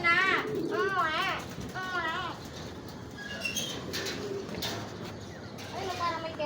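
Racing pigeons cooing in a series of soft, wavering calls close by, while people chat and children's voices carry in the background.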